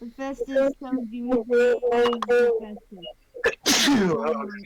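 Someone talks, then a single sharp, loud sneeze bursts out close by, with speech resuming right after.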